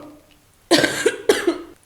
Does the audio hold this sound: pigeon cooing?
no